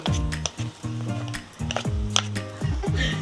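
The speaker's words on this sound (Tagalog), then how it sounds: "Hintayin nating mag-brown ang ground beef." Ground beef browns in a pan with a steady sizzle and occasional stirring clatter, partly covered by music with a strong beat.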